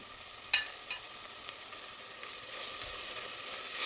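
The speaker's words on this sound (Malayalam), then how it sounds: "എല്ലാം കൂടി ഇട്ട് കൊടുത്തൊന്ന് വഴറ്റി കൊടുക്കാം." Spice powders with crushed ginger and garlic sautéed in a pan for a potato masala curry, a continuous bright sizzle with a few light stirring scrapes, close and unbroken by speech.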